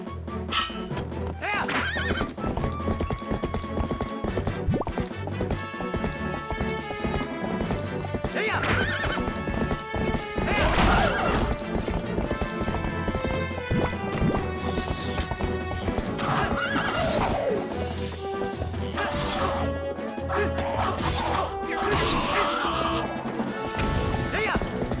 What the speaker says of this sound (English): We gotta catch up to the horse.